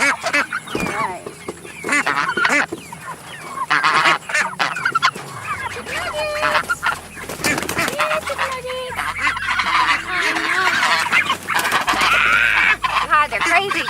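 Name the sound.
ducks quacking and honking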